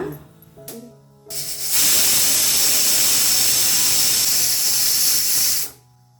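Pressure cooker on a high-to-medium flame releasing steam: after a brief quieter start, a loud, sustained rushing hiss blasts for about four seconds, then cuts off abruptly.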